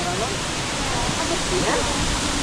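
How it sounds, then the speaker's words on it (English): Waterfall at Plitvice Lakes National Park in Croatia, a steady, full rush of falling water that fills the whole clip at close range, with no pauses or separate splashes. "It's not too much of water, but it's more water than the lower falls."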